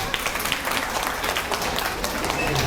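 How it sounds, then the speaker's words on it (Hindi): Clapping from an audience at a Montessori education session, a brisk, continuous patter of many hands with crowd murmur mixed in, fairly close and steady throughout. "वह तालियां तो बनती है यार"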